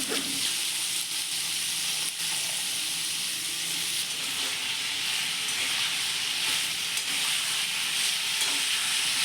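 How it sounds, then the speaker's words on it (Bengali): Diced beetroot and carrot fry in hot oil in a karahi with nigella seeds, producing a continuous, even sizzle with light crackling and occasional stirring, and no voices over it. "কড়াইয়ে তেল গরম করে কালো জিরে ফোড়ন দিয়ে ওই কেটে রাখা বিট গাজরগুলোকে দিয়ে দেবো"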